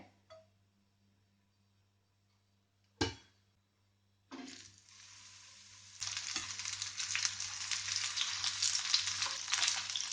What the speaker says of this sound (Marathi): आतां ते आमी तव्यार घालुया फ्राय करपाक।